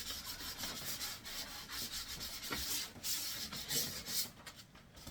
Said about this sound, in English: Let's get a bit of sandpaper in it